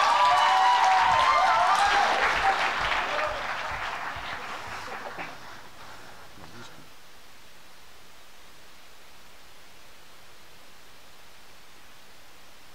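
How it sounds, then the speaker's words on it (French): Audience applause at a regional high school talent show final, a broad wash of clapping that fades out after about five seconds, leaving quiet room tone. "Une bonne main d'applaudissements!"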